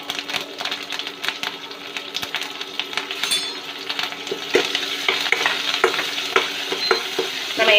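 Green chillies and brinjal fry in hot oil in a pan, giving a steady crackling sizzle dotted with small pops and utensil taps, close and continuous with no talking.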